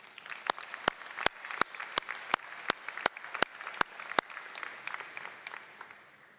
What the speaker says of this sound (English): let's show them our appreciation with a round of applause